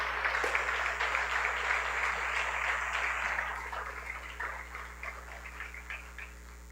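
Church congregation clapping at a baptism service, a steady, fairly dense patter of hands that thins out and softens in the second half, with low hum underneath and no talk.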